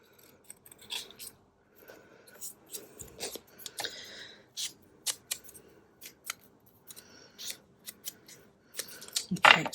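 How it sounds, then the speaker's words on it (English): Scissors trimming paper for a junk journal, a quiet close-up run of irregular snips and paper rustles, with brief soft speech in between. "Let's just trim that up there a bit."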